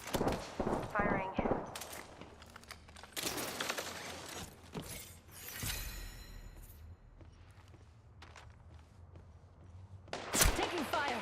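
Video game gunfire in bursts of sharp shots with loud cracks, mixed with game announcer callouts and effects, louder at the start and end.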